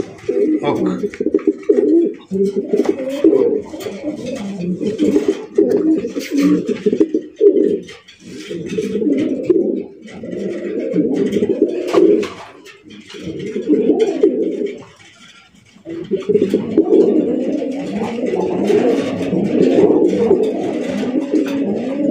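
Raj Golla pigeons coo close by in repeated low, throaty bursts with brief gaps between phrases, continuing steadily throughout.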